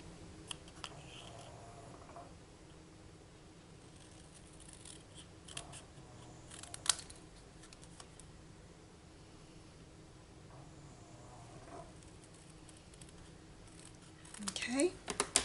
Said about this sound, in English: I'm just cutting around it to leave like a little border